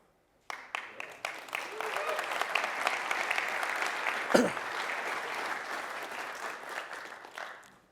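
Keynote audience at a Magento conference breaks into sustained applause, a dense wash of many hands clapping that swells quickly and holds steady for several seconds before tapering.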